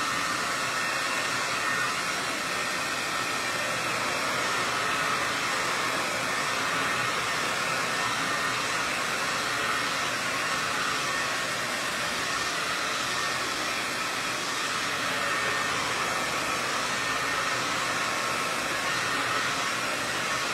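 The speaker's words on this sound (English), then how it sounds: "So I'm gonna make a little bit of noise. Bear with me, we're gonna dry this really quick." A hair dryer blows on a DIY monogram sign, giving a loud, steady, unbroken whoosh of air that runs the whole time with no talking.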